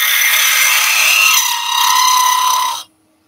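Steady, close whirring scrape of a lathe tool hollowing out a turned wooden baby's rattle, continuous for nearly three seconds before cutting off abruptly into silence.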